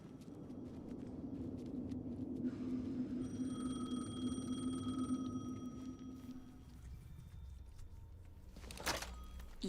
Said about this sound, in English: Answer the phone here. The phone again.